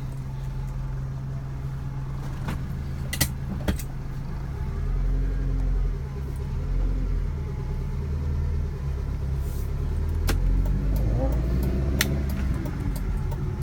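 A 2001 Kia CD5 on a test drive heard from inside, with a steady low engine and road rumble throughout, occasional clicks and bumps, and someone talking over it.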